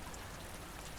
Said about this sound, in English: that rain is not letting up